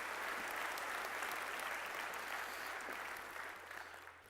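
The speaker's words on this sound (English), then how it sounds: "So give him a huge round of applause" Audience applause fills a conference hall after a keynote talk at a tech event, dense clapping throughout that tapers off slightly toward the end.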